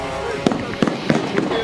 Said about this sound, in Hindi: अचानक गोलियों की आवाज होती है।